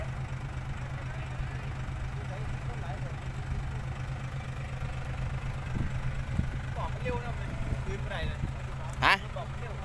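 A tractor engine idles with a steady low rumble and mechanical knock that runs throughout, and people talk over it.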